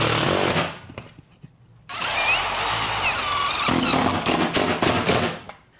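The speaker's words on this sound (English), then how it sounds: "I'm going to come back through and fill in roughly 12 inches on center with pancake screws" Power drill driving pancake screws into high side peak trim on a standing seam metal roof, a loud whirring burst followed by a longer high-pitched run and several short repeated pulses, close and alone.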